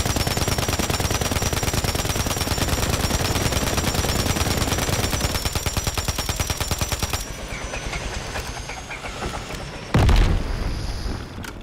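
Call of Duty gunfire, loud rapid automatic bursts in a continuous rattling stream that fades to scattered distant shots, followed by a heavy boom near the end.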